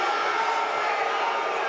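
A college wrestling crowd in an arena reacts with a steady, loud wash of voices, booing and jeering in a continuous roar without breaks.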